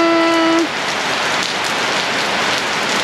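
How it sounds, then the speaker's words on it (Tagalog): Steady heavy rain drumming on a roof, a dense continuous patter throughout, with a brief tonal hum fading out in the first half second. "Pumapatak na naman ang ulan sa buong bahay, sa bubong ng bahay."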